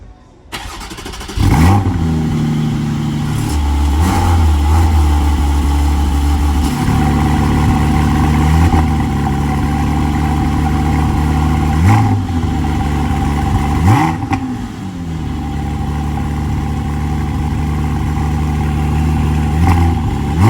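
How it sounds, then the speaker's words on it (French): A Porsche Cayman GT4 engine cranks and fires up loud and close, then settles into a deep idle broken by several sharp throttle blips and rising revs that fall back, with no talking. "je vais demander gentiment à monsieur s'il peut démarrer la voiture pour voir si on peut entendre vraiment le bruit"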